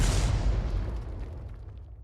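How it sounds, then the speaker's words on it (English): A 105 leFH18B2 howitzer fires a shell in a tank game, one heavy boom with a long rumbling decay that trails off over two seconds. "I keep pumping those shells in until you get a wreck."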